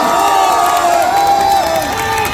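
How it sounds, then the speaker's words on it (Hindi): A large crowd at a political rally in Silvassa cheers and shouts steadily, with whoops and a dense roar of voices and some applause filling the scene without a break. "आपकी तालियों का शोर दिल्ली तक जाना चाहिए।"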